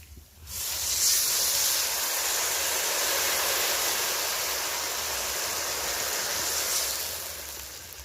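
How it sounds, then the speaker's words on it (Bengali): Water poured into fried lentils in a pan, producing a steady broadband rush and hiss that holds loud and constant for several seconds, then eases off at the end. "এখন আমি চার বাটি জল দিয়ে দেব"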